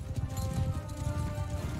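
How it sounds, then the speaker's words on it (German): Rapid hoofbeats of horses galloping past in the video game Mount & Blade II: Bannerlord, a quick muffled drumming rhythm at moderate distance. "Oh, Reiter vorbei."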